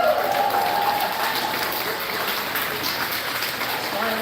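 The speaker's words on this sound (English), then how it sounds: "big round of applause" Steady applause from a crowd at the national sheep shearing competition at Douglas County Fairgrounds, a dense continuous clapping that holds evenly throughout with some voices mixed in.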